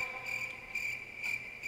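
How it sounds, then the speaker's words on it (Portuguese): A bee buzzes in Minecraft, a steady, continuous hum that holds at an even level for a couple of seconds, with slight swells in loudness and no talking over it. "Por que que ela só faz zumbido de abelha, hein?"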